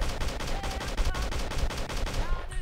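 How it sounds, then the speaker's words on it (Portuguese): Rapid bursts of sniper rifle gunfire in the video game Slendytubbies 3 crack repeatedly and loudly in an unbroken stream, with no voices over the shots. "Vamos dar uns tiros de sniper aqui só pra testar"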